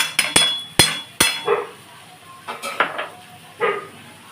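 Coconut chutney with chili flakes stirred in a pan, sharp metal utensil clacks and scrapes against the pan, several loud knocks early then softer irregular scraping strokes, close and alone.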